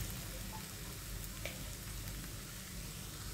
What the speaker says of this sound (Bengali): এখন আমি সুন্দর করে এই ডিম আর পেঁয়াজ একসাথে নেড়ে ছেড়ে সুন্দর করে ভেজে নিচ্ছি